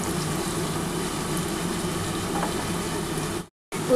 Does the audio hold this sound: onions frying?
yes